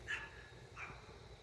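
Dog barking indoors at a distance, two short yips or barks separated by a pause, faint under a steady low background hum.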